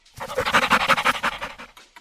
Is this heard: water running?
no